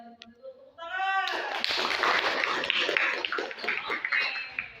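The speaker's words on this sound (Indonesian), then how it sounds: "Tepuk tangan." A classroom applauds, brisk close clapping from students breaking out after a brief spoken phrase, continuing energetically for a few seconds before thinning out.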